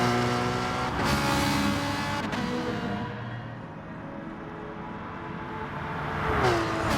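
A Ferrari and Porsche battling in a racing video game league race, engines droning and shifting pitch as they pass close by, loud and continuous, then easing off before one car swells back in near the end.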